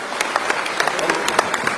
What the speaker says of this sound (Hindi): सब अपने अपने स्थान पर खड़े होकर भाई साहब के स्वागत में एक बार तालियां बजाइए।